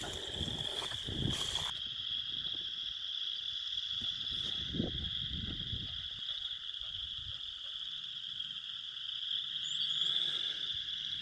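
A chorus of wood frogs croaks continuously in the distance over a steady high insect drone, with occasional soft thumps and rustles nearby, at Moss Lake in Elk Island.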